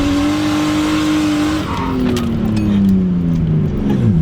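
A 1989 Nissan Skyline R32 GTS-T, rear-wheel drive with a 5-speed manual, drives by with a loud, steady engine drone whose pitch slowly falls.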